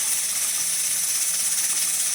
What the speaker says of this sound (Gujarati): કુકરમાં ચડવા માટે મૂકી દીધા છે ચણા